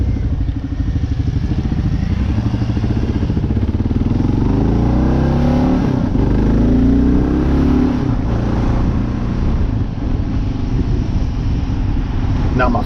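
A Kawasaki KLR 650 dual-sport motorcycle rumbles steadily while being ridden through rural West Virginia, its engine drone loud and continuous with shifting revs and heavy wind noise throughout.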